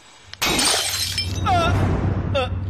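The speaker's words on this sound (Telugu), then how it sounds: "బాబాజీ మన ఆఫీస్ లో బల్బ్ పేలినట్టుంది" A light bulb bursts in an office with a sudden loud shattering of glass, followed by tinkling fragments over a steady low hum.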